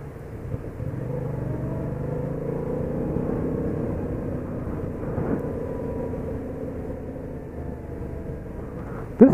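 Yamaha FZ-07 motorcycle being ridden at a demo event, a steady engine drone at moderate level running throughout, with a brief louder burst at the very end.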